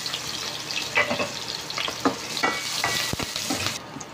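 Garlic and ginger fry in a pot as the base for chicken arroz caldo, giving a steady close sizzle broken by several scraping stirs of a utensil against the metal, with no voices.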